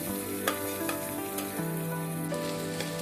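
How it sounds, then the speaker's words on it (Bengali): Onions and green chilies frying in a pan for an eggplant egg curry, a loud continuous close sizzle with spatula scrapes and clinks, one sharp knock early on. "মরিচ পেঁয়াজগুলোকে এভাবে আমি 2 থেকে 3 মিনিটের মতো ভেজে নেব"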